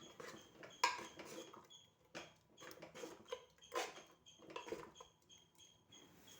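Spoon scraping and clinking against a pot while mixing puzhukku, a traditional Kerala mash, with a few sharper knocks and soft scrapes in an irregular rhythm, close and fairly quiet, no voices.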